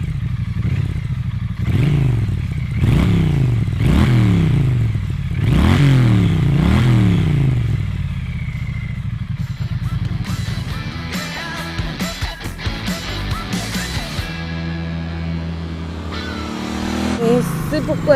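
Triumph Street Twin motorcycle engine pulls at low revs with a deep, throbbing note that repeatedly swells, followed by clattering and a steadier lower idle; a voice talks over part of it.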